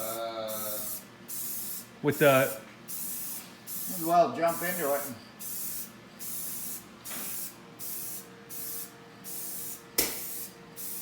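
An aerosol can of rust converter hisses in a series of short, evenly spaced bursts, close and clear, while people talk briefly between sprays during rust repair on a 2007 GMC Yukon XL.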